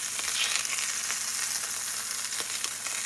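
Pieces of meat browning in a frying pan for Cajun spaghetti give off a steady close sizzle and crackle throughout, with a few brief sharper pops and no talking.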